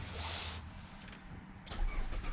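A Mazda CX-5 with a high-compression engine is push-button started, with a burst of starter whir, then the motor catching and revving up loudly near the end, no talking.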